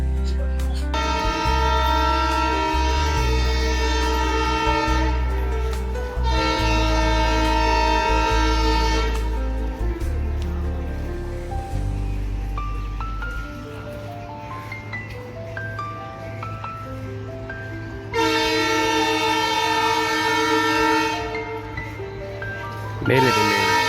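A passing mail express train sounds its horn in long, loud sustained blasts, with a deep rumble of wheels and carriages beneath, the horn sounding again after a quieter stretch near the end; a faint voice is heard briefly.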